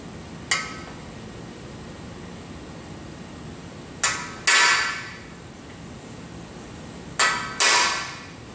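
A hammer tapping a freeze plug into an engine block for a 408 stroker build, heard as five sharp metallic strikes spaced irregularly, some in quick pairs, ringing briefly over a steady background hum with no talking.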